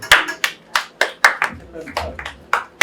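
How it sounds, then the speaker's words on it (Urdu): Audience applause during a gospel sermon: about ten sharp, loud claps in a quick, fairly regular rhythm, close by, with no speech between them. "آپ کے لیے تالیاں"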